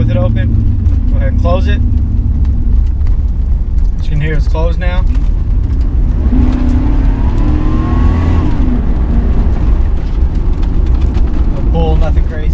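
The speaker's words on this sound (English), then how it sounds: "Up here at the next light, I'll go ahead and hit it, close it up, and we'll do a little closed exhaust pull." A 1998 GMC Sierra SLT pickup accelerates from a light with its exhaust closed, a steady muffled engine roar rising through one pull, loud and close from inside the cab, with brief bursts of talk over it.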